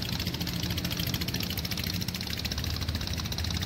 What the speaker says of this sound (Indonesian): pompong yang digerakkan oleh tenaga mesin diesel